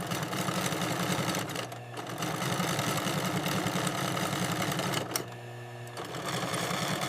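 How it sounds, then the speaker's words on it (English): Heavy-duty sewing machines in a Rolls-Royce factory stitch thick bull-hide leather with strong thread, a loud, continuous rapid mechanical chatter with two brief pauses where the motor slows before resuming. "The heavy-duty sewing machines punch through the thick leather, binding the pieces together with ultra-strong, contrasting thread."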